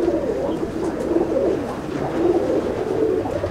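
Chennai breed pigeons cooing inside a loft, soft overlapping throaty coos rolling steadily and close by with no pause.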